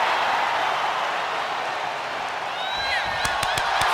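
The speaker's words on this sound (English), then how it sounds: "And Nikki is getting the crowd going." A wrestling arena crowd in the WWE 2K25 video game roars in a steady wash of cheering, with sharp claps and a few whistles near the end.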